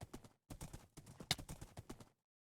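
A horse's hooves clip-clop quickly in a video game, a run of near, rhythmic clops broken by a brief pause, alone with no speech.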